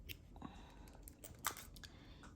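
Scissors snip through crochet yarn while finishing a ribbed slouchy hat, a couple of quiet, crisp cuts with small handling clicks, close and soft with no talking.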